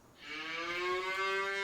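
A cow moos once in Farming Simulator 25, a single drawn-out, fairly soft bellow that rises in and holds steady, with no talk over it.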